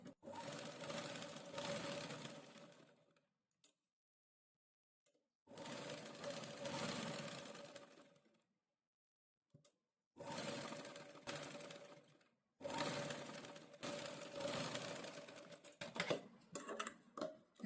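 A sewing machine stitches fabric in several long, steady runs of fast, even whirring, with short silent pauses between bursts while a garment is joined and trimmed. No voices are heard.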